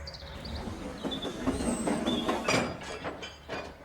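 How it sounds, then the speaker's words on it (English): A small engine pulls a string of wagons out of a station, with a steady mid-distance rumble, rhythmic clanking and brief squeals from the wheels. "Skarloey was coupled to Fred's wagons and left the station"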